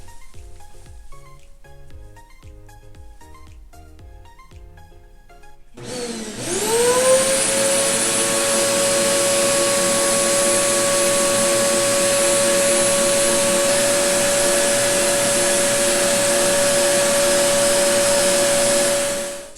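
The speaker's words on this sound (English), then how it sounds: "I might have to vacuum" A vacuum cleaner switches on partway through and runs steadily and loudly to the end, its motor whine constant after a brief spin-up, following a quieter stretch of faint tapping sounds.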